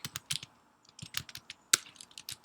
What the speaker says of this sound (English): So I'm going to type this answer.